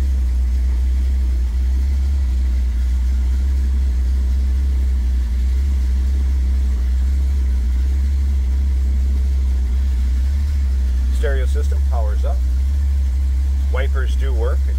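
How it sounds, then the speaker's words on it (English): A big-block V8 car engine idles with a deep, steady rumble, loud and continuous throughout, with brief higher chirps near the end. "I think it's more fun listening to the engine than the stereo, to tell you the truth."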